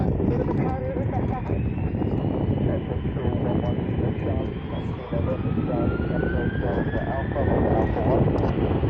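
A jet airliner with General Electric CF6 engines roars loudly and steadily at an airport runway viewing park, its engine tone slowly rising as it passes close by, with people talking faintly in the background.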